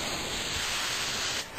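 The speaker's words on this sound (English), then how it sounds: "now we're just spraying a coating of the 3M spray adhesive all the way around the top" Aerosol can of 3M spray adhesive hissing steadily as a coating goes onto a car headliner for a Trans Am, a close, continuous spray that cuts off briefly near the end.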